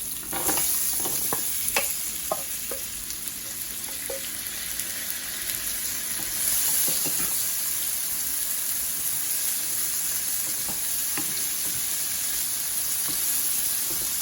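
Potatoes crackle and sizzle in hot sesame oil, a steady frying hiss broken by scattered pops and occasional stirring clinks, with no talking.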